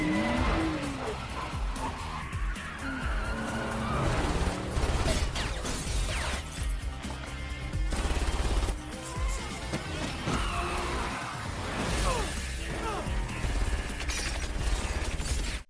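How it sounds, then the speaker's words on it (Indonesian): Engines roar and tires squeal in a dense, loud car chase ending in a crash, with skids and mechanical clatter layered under a dramatic music bed. "sebuah mobil yang melaju kencang dari arah sisi sebelah kirinya, hingga tabrakan itu"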